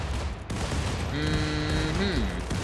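Turrets open fire in the colony-sim video game RimWorld, a dense continuous fusillade of small gunfire over a steady din, with a tonal whine rising and falling partway through.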